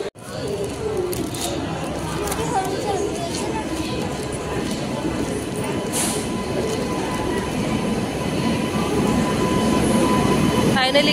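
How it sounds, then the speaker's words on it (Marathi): A Jan Shatabdi passenger train rolls into Panvel station on Indian Railways, its steady rumble and clatter building near a crowded platform, with voices faintly underneath. "ट्रेन आली, आता ट्रेन आली आमची."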